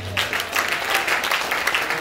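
Congregation applauding at a church service, a steady dense wash of many hands clapping at moderate level with no clear pauses.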